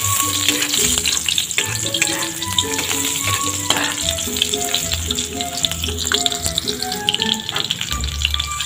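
Onions fry in a pan while garlic is sautéed for a Filipino catfish dish, giving a steady sizzle with light taps and stirring scrapes throughout, close and fairly loud, with no talking. A faint melodic line runs underneath.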